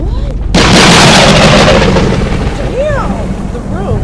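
A tremendous explosion erupts suddenly with a loud, sustained broadband roar that slowly fades, followed by scattered crackling and whistling debris sounds.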